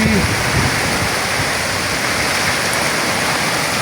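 Heavy rain pours steadily during a thunderstorm, a dense close roar of water without pause, with some faint low rumbling underneath; no thunderclap stands out.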